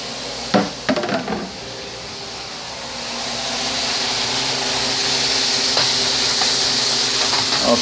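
Onions seasoned with an oily dry rub hit a hot grill after a few clanks, then a loud, steady sizzling hiss builds and continues close by.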